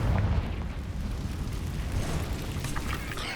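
A Confringo fire spell in the Hogwarts Legacy video game erupts inside a cave with a loud, booming blast that keeps rumbling and crackling through the whole short stretch, with no talk over it.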